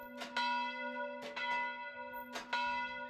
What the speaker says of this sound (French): La cloche de l'église sonne à nouveau